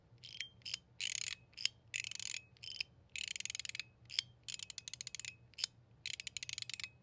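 A metal mechanical fidget toy, taken apart and rebuilt with swapped balls and springs, turned by hand: bursts of rapid ratcheting clicks in short repeated runs separated by brief pauses, crisp and close, with no voices.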